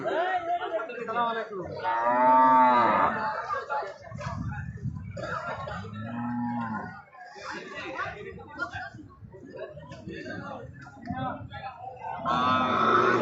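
Cattle low at a busy cattle market, with deep moos rising over steady chatter and occasional laughter from people nearby.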